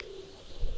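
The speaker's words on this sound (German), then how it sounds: "Diese Tauben sehen hungrig aus" Pigeons in a video game give a short, soft coo, a single brief low call that sits alone without speech.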